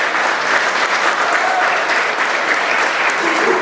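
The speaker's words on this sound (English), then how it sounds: "So everyone here, fan and player, all deserve a big round of applause." Steady, dense applause fills a room at a football club awards night, a full crowd of fans and players clapping evenly throughout without a break.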